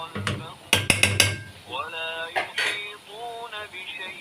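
Chicken is sautéed and stirred in a pan. Sharp metallic clanks and scrapes of a utensil against the pan are close and clear, with a voice speaking in the background partway through.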